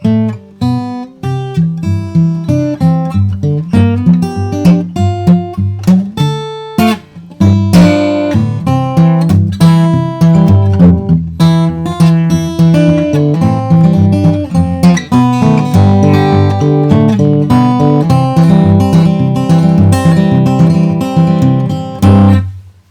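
Solo acoustic guitar plays the folk tune Freight Train fingerpicked in an alternating-bass style, with a steady thumb pulse under a plucked melody. It is close and clear, with a short pause near the seven-second mark.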